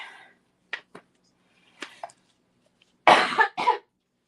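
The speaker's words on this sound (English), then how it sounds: "I apologize for the coughing" Several short coughs: a couple of light ones early, then two loud, harsh coughs close to the microphone near the end, with quiet gaps between.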